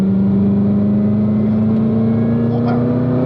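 A car on a race track holds a loud, steady engine drone while pulling onto the straight under throttle, close and continuous throughout.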